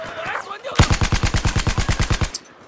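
An automatic weapon in the multiplayer shooter game Battlefield 4 fires a rapid, evenly spaced burst of about fourteen loud, close shots, preceded by someone speaking briefly.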